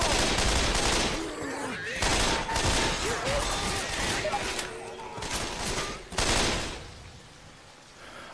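Rapid bursts of gunfire in the Left 4 Dead campaign The Passing, repeated volleys and automatic fire cutting in and out over about eight seconds, loud and close, with game noise and a voice talking underneath.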